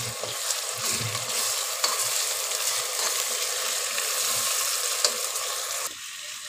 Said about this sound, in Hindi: हमने ऑयल डालकर प्याज को चढ़ा दिया